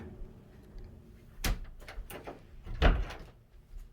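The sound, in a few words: closing a door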